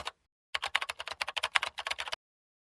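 Fingers type an email on a computer keyboard, a quick close burst of roughly twenty crisp key clicks in an uneven rhythm, framed by brief silence before and after.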